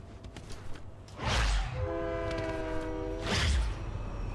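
A train horn sounds in Fortnite with two loud, sustained honks, each opening with a rumbling rush. Steady background game noise continues underneath.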